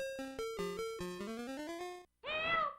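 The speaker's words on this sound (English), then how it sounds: "Pauline calling for help." Pauline's cat-like cry for help from the Donkey Kong '94 Game Boy game: a run of rising electronic chiptune beeps, then a short, wavering meow-like tone, close and clean.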